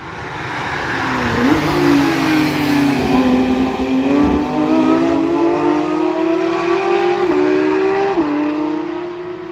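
A street-legal car lapping the Nürburgring, its engine droning loud and steady close by, pitch climbing through the gears with brief dips at each shift, and tires hissing on the track beneath.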